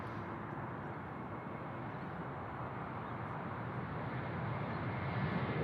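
A heavy jet departing Sydney Airport's runway 34 right, a broad steady engine roar heard from a distance that holds evenly and swells slightly toward the end, with no voices.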